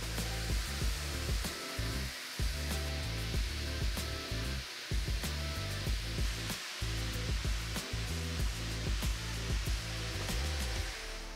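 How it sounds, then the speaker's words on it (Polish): A vacuum cleaner roars in a steady, close drone while sucking dust off a freshly sanded microcement floor, with small thumps and scrapes as the nozzle moves; no talking. "Następnie dokładnie odkurzam całość, aby usunąć wszelki pył i przygotować powierzchnię do aplikacji drugiej warstwy."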